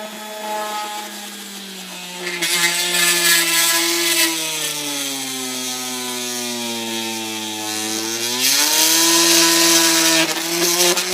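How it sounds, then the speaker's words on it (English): A Dremel rotary tool cuts a hole in a seat for a harness pass-through bezel, a loud close high-pitched whine whose pitch dips and rises as the bit bites and grinds through the material. "So now I got the Dremel. I'm going to Dremel this out."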